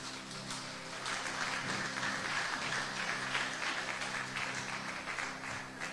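A church congregation applauds together during a bilingual French and Spanish sermon about God, a dense, steady wash of clapping hands that holds across the whole stretch without a break.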